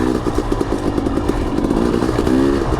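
A KTM 250 XC dirt bike engine runs along a tight mountain singletrack in second gear, close and loud, with a rapid, choppy two-stroke burble that rises in pitch toward the end.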